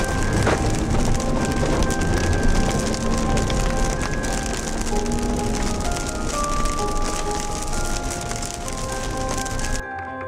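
Heavy rain and hail pound down during a storm on a tornado chase, a steady loud drumming wash that fills the whole clip and cuts off abruptly near the end.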